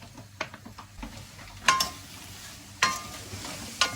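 Apples with sugar and cinnamon sauté in a pan, a soft sizzle and stirring scrape with a few sharp metallic clinks of a utensil against the pan standing out.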